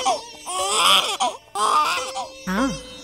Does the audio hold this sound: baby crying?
yes